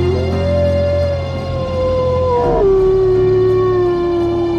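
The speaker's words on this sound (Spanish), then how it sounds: "Un coro de lobos aulladores saludó al alba." Wolves howl at dawn in a chorus of long, sustained, overlapping howls that slide gradually downward in pitch, loud and close.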